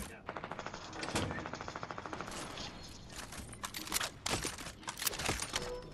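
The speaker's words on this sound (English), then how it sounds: "Ronnie, you're just shooting." Rapid automatic gunfire in Fortnite, a fast rhythmic burst of shots followed by scattered sharper cracks and more irregular volleys, fairly loud and continuous over game ambience.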